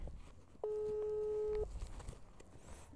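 A single telephone busy tone sounds for about a second as an unanswered call fails, steady and clear over faint room noise and movement.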